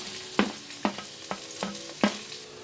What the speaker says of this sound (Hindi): अब इसमें 6 to 7 टेबल स्पून तेल डाल देंगे और ये हरी प्याज डाल के इसको थोड़ा सा फ्राई कर लेंगे